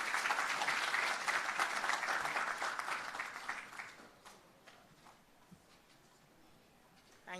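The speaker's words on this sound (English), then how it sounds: "Please give her a round of applause." An indoor audience applauds a speaker at a tourism network event, steady dense clapping for about four seconds that then thins into scattered claps and fades.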